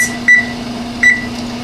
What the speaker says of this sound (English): I'm going to set my timer for 15 minutes.